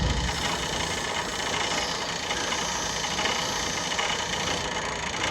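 A rusty fixed-blade hunting knife is worked against a running bench grinder with polishing compound, giving a steady, unbroken whirring drone close by.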